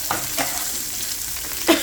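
Tempering of mustard seeds, garlic, dried and green chilies and curry leaves frying in hot oil, a steady close sizzle broken by a few scrapes of a stirring spoon.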